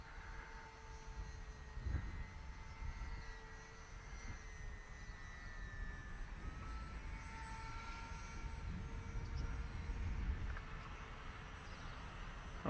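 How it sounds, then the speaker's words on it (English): A Bixler RC model plane drones steadily at a distance above a seaside surf break, a continuous motor whine with faint tonal lines over rumbling wind and surf. "the Bixler will just fly in anything"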